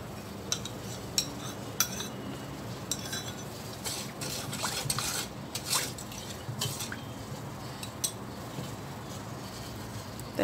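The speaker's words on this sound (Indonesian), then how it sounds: "kemudian kita aduk. Kita masukkan juga santan." A zebra pudding mixture with water and coconut milk is stirred in a pot, with steady liquid swishing and frequent light clinks of a utensil against the pot, close and continuous.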